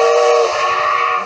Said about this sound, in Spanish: Y eso es un tren.